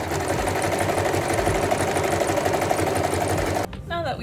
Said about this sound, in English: We're just gonna do a little zigzag stitch all the way around the end of our rectangle